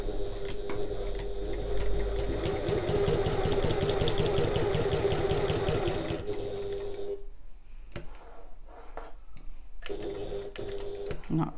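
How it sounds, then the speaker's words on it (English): A sewing machine stitching a seam with a back stitch, a fast, close, rhythmic mechanical chatter that runs steadily, then stops and restarts in short bursts near the end. "we're going to sew using our regular seam allowance and our regular stitch length, and I'm going to back stitch at the start and the end."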